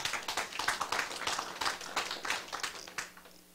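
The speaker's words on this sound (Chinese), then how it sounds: "搁大家鼓掌，家己一个" Audience applause at the closing of a study seminar, a dense round of clapping from a crowd, moderately distant, holding steady before tapering off.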